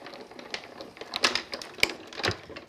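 A die cutting machine pressing card through an edger die between cutting plates, a close run of clicking, crunching mechanical taps and rattles with a few sharper knocks, no talk.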